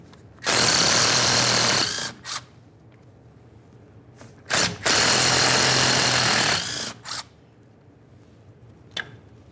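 An impact power tool rattles off 10 mm mounting nuts on the rear differential cover of a 1998-2011 Ford Ranger, two loud, close bursts of hammering, each about two seconds, followed by short clicks and clunks.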